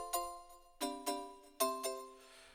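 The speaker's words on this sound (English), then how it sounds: "We got Dream Music Box." A Dream Music Box style preset on a Medeli AKX10 keyboard plays bright, tinkling bell-like chimes: a few struck notes ringing and decaying, clear and fairly quiet, with no talk.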